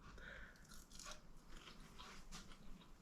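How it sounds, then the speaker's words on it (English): A bite into an air-fried battered Mars bar topped with ice cream, soft crunching and chewing very close to the mouth, faint and low in level, no talk. "Got to have a bit of ice cream on my one and only bite."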